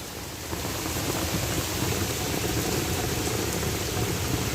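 Heavy rain and gusty wind in Bangalore, strong enough to bend the trees, make a steady, dense roar that stays loud and even throughout with no voices.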